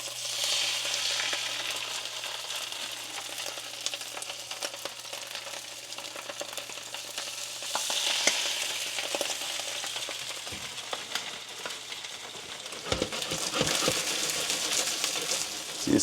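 Salmon fillets sear skin side down in a hot pan, giving a steady loud sizzle and crackle throughout with occasional pops and scraping.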